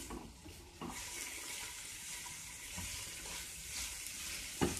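Turkey stuffing cooking in butter in a pan, a soft continuous sizzle with occasional clicks and scrapes of stirring, fairly quiet and close, with no voices.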